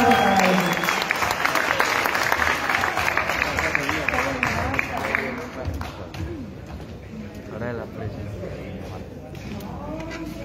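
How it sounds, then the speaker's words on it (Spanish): Sustained applause from a crowd at a youth council awards gala in Comuna 16 Belén fills the opening seconds, gradually thinning out while voices and background chatter carry on. "Un gran aplauso para ellos."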